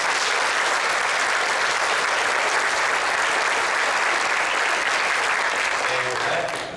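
Sustained applause from a banquet audience, a dense, steady wash of many hands clapping at even loudness throughout, tapering slightly at the very end.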